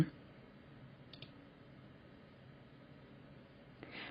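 A few soft computer mouse clicks while registering a withdrawal document in a school management software system, one near the start, a quick double click in the middle and another near the end, faint over a quiet hiss.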